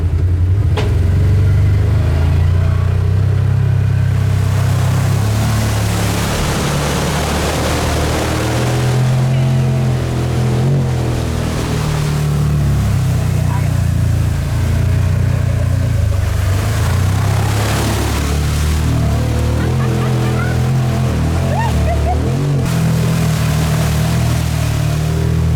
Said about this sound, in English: Making our way with the Can-Am.